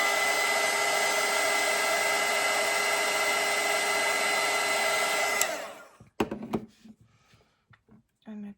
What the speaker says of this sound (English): I'm going to dry this.